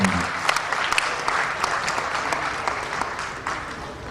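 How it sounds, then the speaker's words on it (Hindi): Loud, dense applause from an audience welcoming a poet to the stage at a Hindi poetry gathering from Hathras, steady clapping sustained for the whole span with scattered sharper claps. "जोरदार तालियों से आपका स्वागत श्रीमान सबरस मुरसानी जी"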